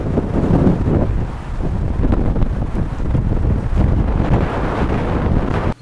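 Strong wind buffets the microphone throughout, a loud, steady rumble with gusty low-end roar and no voices.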